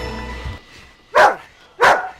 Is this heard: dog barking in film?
yes